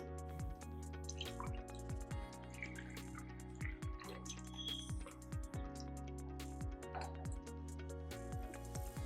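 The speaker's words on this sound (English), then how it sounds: "now I'll add this quantitatively to my 250 milliliter volumetric flask" Liquid drips through a funnel into a 250 millilitre volumetric flask while a dextrose solution is transferred, a run of soft, evenly spaced close drips over a faint steady background hum.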